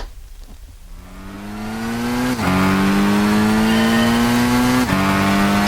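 A car in the Gran Turismo 6 racing game, its final drive ratio shortened, accelerates hard down a straight. The engine note climbs loud and steady through two quick upshifts, with no talking.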